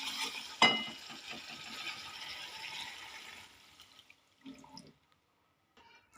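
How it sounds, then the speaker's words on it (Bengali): Two cups of water splash into fried, oil-releasing masala for dhokar dalna, a loud rushing pour lasting a few seconds, then quieter clinks and stirring in the pan. "আমি জল দিয়ে দেবো।"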